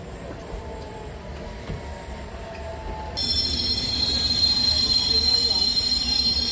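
A London train pulling into Shepherd's Bush Market station rumbles along, then its brakes break into a loud, sustained high screech that carries on to the end.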